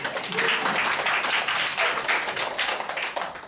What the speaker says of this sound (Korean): 박수 쳐주는 거야